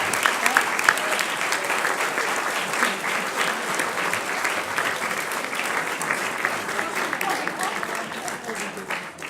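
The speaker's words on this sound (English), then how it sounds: "how about a round of applause for our speaker, but you did it spontaneously" Steady, enthusiastic audience applause for a speaker at a press club event, dense clapping sustained throughout and tapering slightly toward the end.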